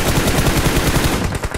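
Rapid automatic gunfire from the video game PUBG Mobile rattles out in loud, dense bursts that run almost continuously, then break into a few separate shots at the end.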